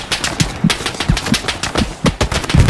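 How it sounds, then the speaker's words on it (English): Heavy machine gun fire in the video game Hell Let Loose, loud close bursts of rapid shots with cracking impacts in an uneven rhythm, continuous for a few seconds with no voices. "there's the absolute pleasure of taking fire from a heavy machine gun"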